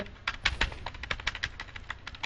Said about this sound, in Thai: นี่นี่เสียงคีย์บอร์ดรัวแล้วเนี่ย